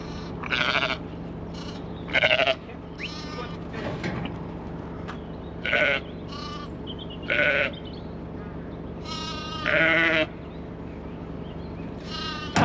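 Sheep bleat repeatedly on a farm, with about eight wavering calls of varying loudness spaced a second or two apart, some close and some farther off, over a low steady background hum.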